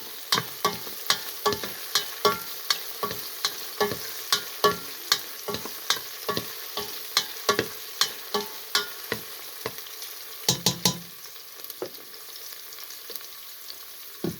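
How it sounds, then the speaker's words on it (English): Garlic and spices sizzle in a hot pan at the start of cooking mung beans with squash and coconut milk, a steady fry under repeated stirring taps of a utensil against the pan, close and moderately loud, with no talking. "now we'll put on the garlic"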